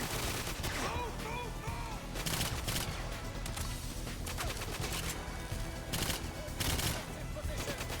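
Gunfire in GoldenEye 007: Reloaded, with rapid overlapping shots and automatic bursts running continuously, loud and dense, under occasional talk.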